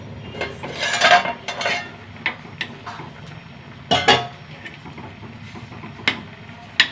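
A pot holding cooked pumpkin clanks and a metal utensil scrapes against it, giving scattered close clinks and knocks with quiet gaps between them.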